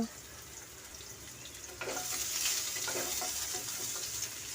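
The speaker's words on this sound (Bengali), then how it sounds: "কুচানো আমড়াগুলোও দিয়ে দিচ্ছি হালকা করে আমি নাড়াচাড়া করে নেব" Chopped hog plums and five-spice seeds hit hot oil in a pan for a plum chutney, the sizzle jumping louder partway through and continuing steadily with light stirring scrapes.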